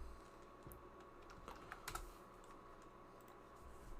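Typing on a computer keyboard while entering data into an Excel spreadsheet, a soft, close run of irregular key clicks with a few louder taps, steady and alone without talk.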